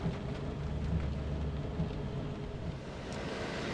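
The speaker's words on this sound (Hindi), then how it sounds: "बारिश जो है मूसलाधार बारिश हो रही है।" Heavy downpour in Taif, Saudi Arabia, a steady broadband hiss of rain with low rumbling underneath, continuous and fairly even throughout, no voices.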